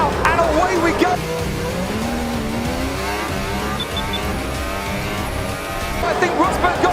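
Formula 1 cars launch off the grid at a race start, a loud, sustained roar of engines rising and blending together, with brief sharper sounds at the very beginning and end.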